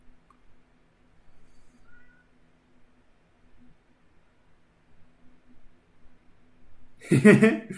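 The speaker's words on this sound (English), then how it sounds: "my cat is continuing to make noises, and you are absolutely right. He is a very loud creature." A loud house cat lets out a single sharp meow near the end of an otherwise very quiet room with only a faint background hum, and a soft voice or chuckle may mix in.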